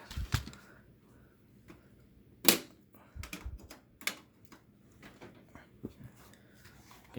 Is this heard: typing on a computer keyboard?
yes